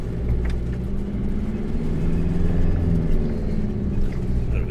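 A 4WD engine labours in first gear on a steep, rocky track in the Flinders Ranges outback, a steady low rumble that holds continuously throughout, close and fairly loud.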